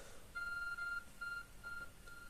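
A phone rings with an incoming call in the Pokémon Legends Arceus play session, three faint electronic tone bursts in a regular pattern over quiet background noise.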